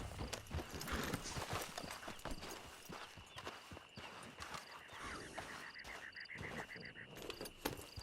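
Hooves of a horse clip-clop in a steady walking rhythm in Red Dead Redemption 2, layered with a faint high chirping like frogs or insects in the background.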